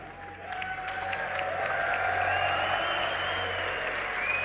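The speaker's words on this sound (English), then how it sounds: "Give us a cheer, guys." An esports arena crowd at a League of Legends grand final cheers and applauds, building from a softer start into a loud, sustained roar of clapping with faint whistles on top.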